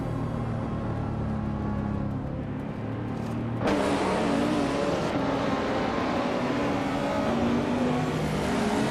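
A 1994 Ferrari F355 Berlinetta roars through a racing video game, its engine droning steadily before jumping into a louder, brighter high-rev whine that holds to the end.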